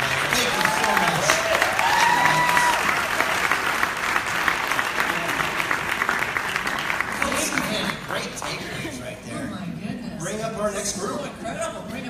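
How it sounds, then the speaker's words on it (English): A crowd applauds a panel at a pre-Grammy city gala event, with dense, loud, sustained clapping and some cheering and chatter that eases slightly in the later seconds. "Round of applause for our panel, everybody."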